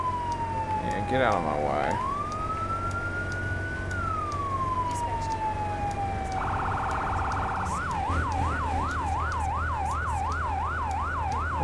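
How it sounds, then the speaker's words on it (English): Fire truck siren in the game Firefighter Simulator The Squad, steady and prominent: a long rising and falling wail that switches to a fast warbling yelp, over a constant engine drone, with someone talking briefly. "Oh, I still don't have my sirens on. Alright, there, now they're on."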